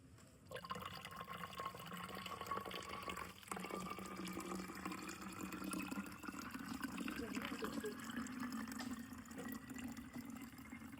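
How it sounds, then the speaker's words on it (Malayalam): Fresh water is poured and mixed into an aloe vera fertilizer, giving a steady splashing pour that rises slightly in pitch as the container fills, with a voice talking faintly underneath. "എന്നിട്ട് അതിലോട്ട് പച്ചവെള്ളം കൂടെ മിക്സ് ചെയ്തിട്ട് കറ്റാർ വാഴ ഒഴിച്ച് കൊടുക്കണം."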